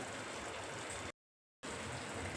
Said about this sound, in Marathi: यामध्ये मी गरजेनुसार कोमट पाणी घालून घेणार आहे